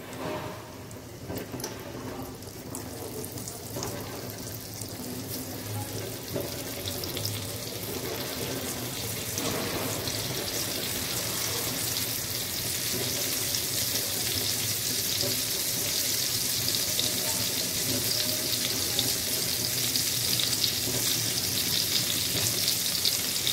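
Bombil (Bombay duck) fish frying in a pan over a low gas flame, a steady broadband sizzle and crackle that holds evenly throughout with no talking.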